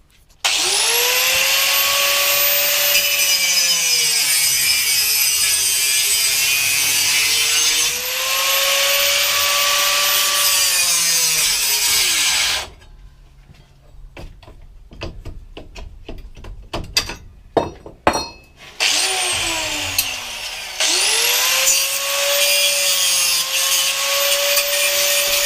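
A grinder cuts through a Yamaha MT01 exhaust pipe with a loud, sustained whine that rises and sags as the disc bites. It stops for a stretch of metallic clanks and handling knocks, then spins back up.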